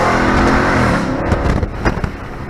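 A Dodge Charger Daytona 392 with an aftermarket exhaust roaring loudly on the street, a sustained aggressive rev that rises, then drops into sharper crackling bursts, close and very loud.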